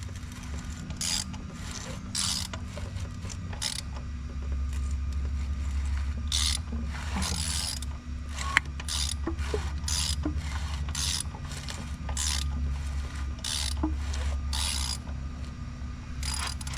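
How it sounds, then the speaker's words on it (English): The engine of a 2011 Suzuki King Quad 750, just rebuilt at the top end, is turned over slowly by hand, giving close mechanical clicking, ratcheting and grinding in uneven bursts over a low hum. "we're gonna roll this thing over and see if it's smooth. Now you wanna roll it over counterclockwise"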